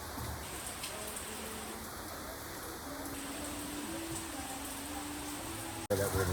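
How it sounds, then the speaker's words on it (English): Steady rain falls and patters on surfaces, a continuous soft hiss with faint tonal hums in the background and a brief cut near the end. "It's raining again."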